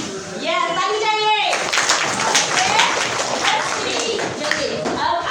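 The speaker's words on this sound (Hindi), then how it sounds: "ये ताली बजाइए।" At a block-level rangotsav competition in Narharpur, children clap in a burst of sharp, scattered claps after a voice speaks, continuing loudly for several seconds.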